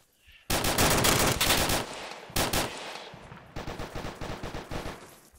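Sudden loud bursts of automatic gunfire, several rapid volleys with short gaps, ending in a fast rhythmic string of shots, close and sharp.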